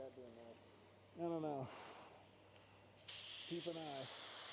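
In a home garage with no booth, a spray gun lays down a second coat of clear on a car. A loud, steady spray hiss starts abruptly near the end, with someone speaking before it and briefly over it.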